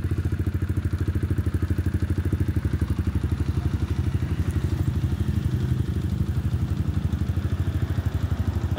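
Kawasaki KLX 150 motorcycle engine running after a top overhaul, a steady, close, rapid putter throughout with no talking.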